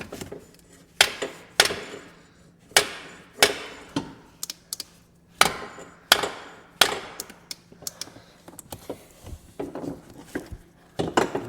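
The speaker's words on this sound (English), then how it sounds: "All it is a 3-pound sledgehammer." A 3-pound sledgehammer striking metal on an ATV, about a dozen sharp, ringing blows at an irregular pace, close and loud against a quiet background.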